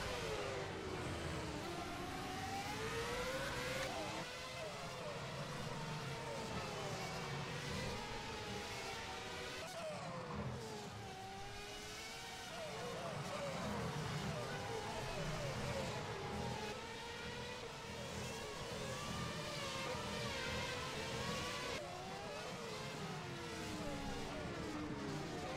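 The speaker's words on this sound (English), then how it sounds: "he's already hitting the limiter down the straight there" Race car engines in a racing video game around the Singapore street circuit, a continuous high wailing drone with rising and falling pitch sweeps as cars rev hard down the straight, held faint and steady throughout.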